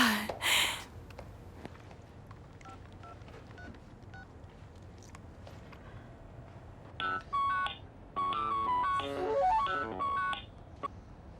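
A telephone rings with bright, repeating electronic tones that arrive late and fairly loud after a stretch of quiet room noise.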